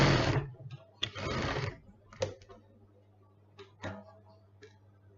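A domestic sewing machine stitches down the side of a lined fabric zipper pouch in short whirring bursts, with clicks and pauses between them and a steady low hum underneath.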